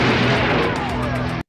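Movie trailer explosions boom and burst loudly, with heavy rumbling blasts and sharp pops over a dense, dramatic soundtrack that cuts off abruptly at the end.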